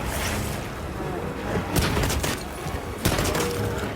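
Light bowgun shots in Monster Hunter Wilds, a dense run of sharp gunfire bursts with two louder booming shots standing out over busy game noise, with a voice talking underneath.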